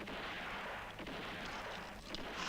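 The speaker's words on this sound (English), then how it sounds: "Listen, gunfire." Distant gunfire rumbles as a dull, continuous barrage of muffled bursts, fairly quiet and with no voices, in a Western film battle.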